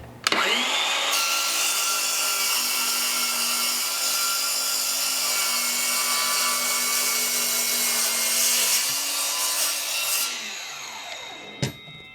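A saw fitted with a 60-tooth blade spins up and makes a steady cut that holds for about nine seconds, then winds down. A short knock follows near the end.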